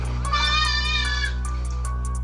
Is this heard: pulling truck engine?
no